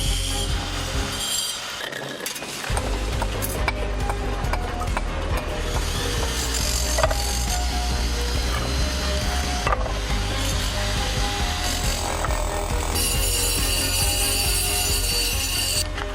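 Stone being sawn to shape for a garden stone wall, a steady loud grinding cut that runs almost continuously with brief dips, close by and with no talk over it.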